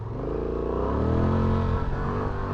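Honda Transalp 750 motorcycle exhaust under hard acceleration during an off-road ride, a steady close droning engine note that climbs in pitch as it pulls, with no talking.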